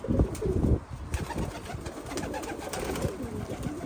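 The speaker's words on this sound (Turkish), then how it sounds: "her yer kuş dolu" Pigeons cooing close by in a loft, low repeated throaty calls overlapping one another, with faint flutter and background bustle.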